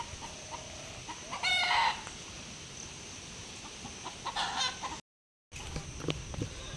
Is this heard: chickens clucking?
yes